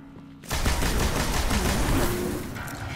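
Rapid gunfire from a Destiny first-person shooter on PS4 starts abruptly after a short pause and runs as a sustained, loud volley for the rest of the clip.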